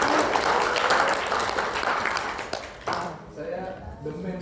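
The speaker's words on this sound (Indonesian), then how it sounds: "Tepuk tangan." Applause from students in a medical lecture on the motor nervous system runs steadily for about three seconds, then cuts off abruptly as room noise and a voice take over.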